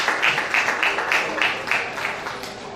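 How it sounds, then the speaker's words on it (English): Applause from an audience at a film academy graduation ceremony, steady and moderately loud, with overlapping claps filling the clip throughout. "A round of applause."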